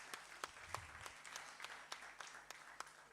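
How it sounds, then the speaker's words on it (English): Audience at a Plan International Uganda event marking its new country strategy and 30 years in the country applauds together, a dense, steady patter of many hands with sharper claps now and then, fairly faint and distant throughout. "give the last applause, the last clap, not to me, but to the people of Plan International Uganda"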